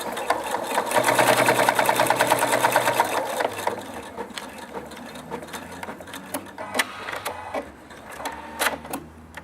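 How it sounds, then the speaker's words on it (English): A Pfaff Quilt Expression 4.2 sewing machine stitches through sixteen thick layers of gabardine, running in a fast rapid whirring burst that slows into a few separate needle strokes and clicks. "then we'll start sewing the ties up"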